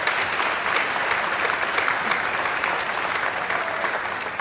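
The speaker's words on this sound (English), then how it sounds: "please give your children a round of applause for all of their hard work" An audience at an elementary school spring concert claps for the children, a dense, steady applause that holds evenly for several seconds without a break.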